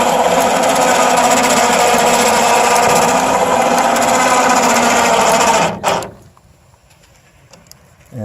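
A 1,500-pound winch in a mobile scrapping setup runs with a steady, loud motor whine and gear buzz for about six seconds, then cuts off abruptly, leaving near silence and a faint clunk at the end.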